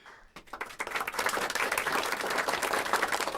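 Canned applause swells after a short pause into steady, dense clapping that holds at full level, with no voices over it.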